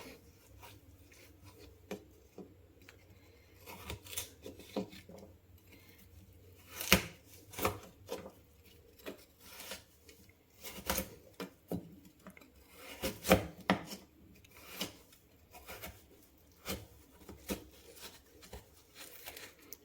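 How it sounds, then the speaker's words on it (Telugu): Rhythmic rasping scrapes, repeated strokes of a coconut scraper grating coconut, fairly quiet and close, continuing steadily throughout. "ఇది కొబ్బరి తీసేదనమాట చాలా ఈజీగా వచ్చేస్తుంది"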